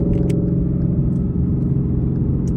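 A car cruises on the road with a steady low engine and road rumble heard from inside the cabin, without speech.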